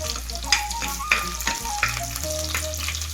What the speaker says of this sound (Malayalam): ആദ്യം വെളുത്തുള്ളി ഇട്ട് കൊടുത്തു